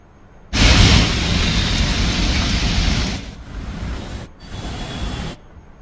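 Heavy rain pouring down in Gurugram, Haryana, during a downpour that flooded streets, heard as a loud, dense wash of noise starting abruptly and lasting several seconds, then easing with brief breaks near the end.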